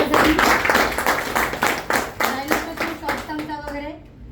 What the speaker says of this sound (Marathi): त्यासाठी जोरदार टाळ्या सरांसाठी